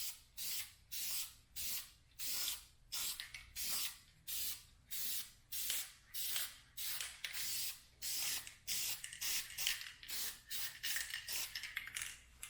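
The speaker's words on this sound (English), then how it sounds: "I'm also getting some runs because I'm spraying it so heavy." Repeated heavy bursts of spray paint coating M3 brake calipers, about two dozen evenly spaced hissing passes each lasting roughly half a second, close and loud with no talking.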